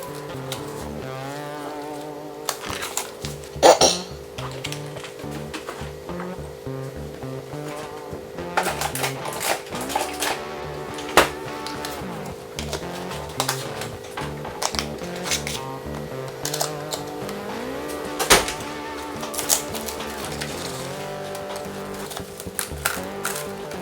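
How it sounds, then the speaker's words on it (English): A knife chops potatoes on a cutting board, giving irregular sharp taps and knocks over a steady background hum, fairly close and with no talk. "we're chopping up potatoes."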